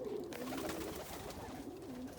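Homing pigeons, including an opal dilute homer, coo in a low, rolling, wavering tone inside a loft, the soft cooing repeating twice beneath steady background hiss.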